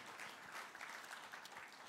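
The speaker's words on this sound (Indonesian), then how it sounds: "Yang percaya berikan tepuk tangan buat Allah kita." Church congregation applauding during a Sunday service at GBI Kebon Sirih, a steady, dense wash of clapping that fills the whole stretch at moderate distance, with no pauses and no voices standing out.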